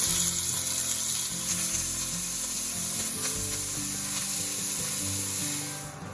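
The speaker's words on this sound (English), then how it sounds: "we seasoned our beef with salt and pepper, and we're gonna put it in the hot oil" Beef seasoned with salt and pepper sears in smoking-hot oil in a pan for a beef stew, giving a loud, continuous close-up sizzle with a few scraping stirs, fading slightly at the end.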